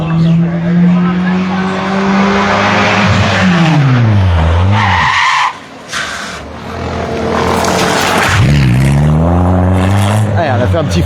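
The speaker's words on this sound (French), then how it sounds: "Un petit freinage d'urgence." Rally car making an emergency stop at a spectacle stage of a national rally, engine roaring then tires skidding and squealing loudly up close, with the engine revving again afterward; a commentator talks over it.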